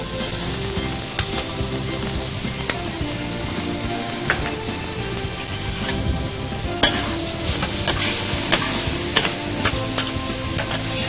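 Onions sautéing in a pan with freshly chopped tomatoes added, a continuous close sizzle broken by frequent stirring scrapes and spoon knocks, with no voices.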